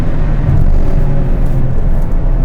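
Steady low car engine rumble fills a tunnel, a modified insert car droning close and continuous with no one talking over it.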